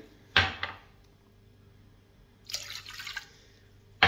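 Water splashes into a pot for dough made with white flour, sugar syrup and oil, in a few short bursts of pouring and dripping with quiet gaps between them.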